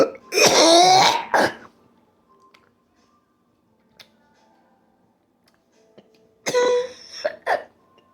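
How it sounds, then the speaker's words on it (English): A lingering post-viral cough: a harsh throat-clearing cough near the start and another rough burst of coughing toward the end, with near silence in between. "Post-viral cough."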